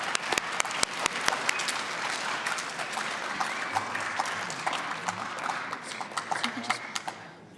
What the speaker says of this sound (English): let's give these young gentlemen a hand of applause for stepping up